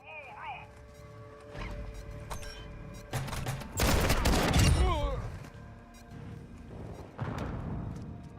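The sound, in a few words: gunfire from players shooting bots in a video game (DMZ)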